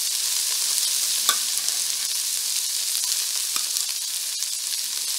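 Chicken fried rice with shredded boiled chicken sizzles in a pan, making a steady bright hiss with occasional soft stirring scrapes and a couple of light clicks as it is mixed.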